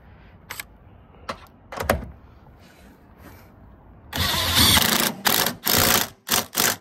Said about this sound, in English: I just got a wrench to tighten it.